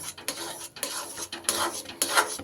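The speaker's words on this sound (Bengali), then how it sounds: "গ্যাস কমিয়ে দিয়ে এইভাবে কন্টিনিউ নাড়িয়ে যেতে হবে" Chhena, a sweet curd, stirred continuously in a pan over low heat for nolen gur sondesh, making rhythmic scraping strokes that repeat several times, close and moderately loud, with no talk.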